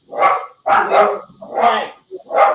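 A dog barks loudly and close by in a kitchen: four rough, drawn-out barks in an uneven rhythm, with short gaps between them and no one talking.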